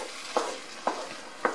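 Bacon and green peppers stirred in a hot pan for Spanish rice, three distinct scraping strokes at a steady pace over a soft sizzle, close and clear.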